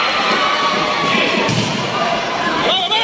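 A packed crowd at a basketball final in San Bartolome, Sto Tomas City, Batangas cheers and shouts loudly and continuously, with thuds from the court, while a commentator speaks over the roar.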